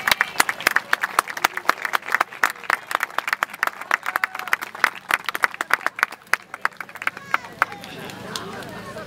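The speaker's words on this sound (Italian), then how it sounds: "Chiedendo di fare per loro un applauso." Crowd at an outdoor river blessing procession on the Po applauds civil protection volunteers, a steady patter of many hands clapping for several seconds that thins out toward the end.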